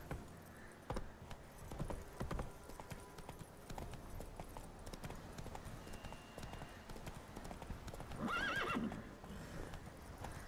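Hooves clip-clop steadily at a run over a busy soundscape in The Witcher 3, and near the end the horse lets out a loud, clear neigh.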